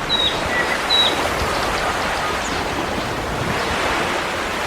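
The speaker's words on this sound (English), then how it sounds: "And those waves." Steady broadband wash of ocean surf with a few faint high bird chirps early on, continuous and fairly loud, no voices.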